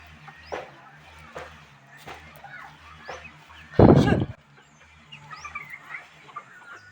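Chickens on a home flock of about twenty birds cluck in short, scattered calls, with one louder burst midway and faint background noise around them.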